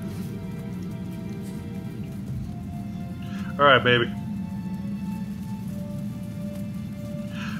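Rain summoned from a rain scroll in the video game Divinity: Original Sin falls steadily throughout, a soft continuous patter on surfaces, with a brief spoken voice breaking in midway.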